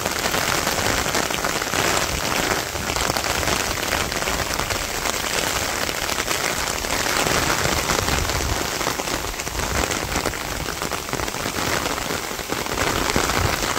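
Rain pours steadily over a Bangladeshi village, a dense even hiss of drops striking surfaces that holds unbroken for the whole stretch, loud and close, with no voices.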